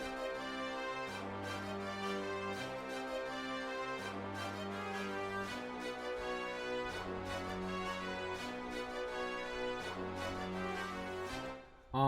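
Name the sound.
Chicago drill beat with orchestral brass hit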